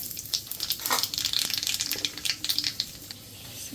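Water is poured into a pan of oil and black cumin seeds for a Bengali curry, giving a steady broadband splash and hiss with brief crackles, close and continuous with no talk.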